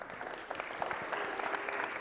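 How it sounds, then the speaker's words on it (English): Audience applause for panelists at an MIT AI conference panel, a brief burst of steady clapping from a room of people at moderate distance. "So big round of applause for our panelists."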